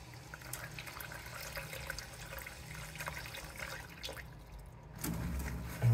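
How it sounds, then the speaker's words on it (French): Cold tap water runs steadily into a bowl of freshly harvested Japanese edamame, a continuous close splashing hiss that swells louder and heavier toward the end as the bowl fills. "Donc on met de l'eau froide, hein, bien sûr, pas de l'eau chaude."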